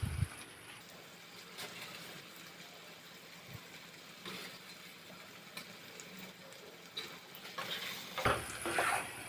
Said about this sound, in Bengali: আবার একসাথে নাড়িয়ে নিই।